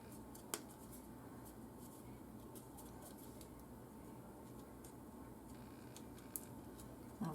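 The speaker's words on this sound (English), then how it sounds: "I'm going to cut this one more rounded." Scissors cut rounded lemon shapes out of paper, making faint, quiet snips and rustles with a couple of sharper clicks spread across the cut.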